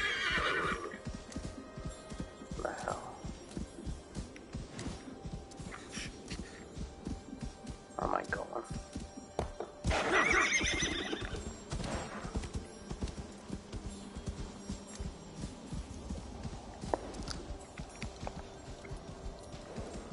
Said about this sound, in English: Can I call on the horse?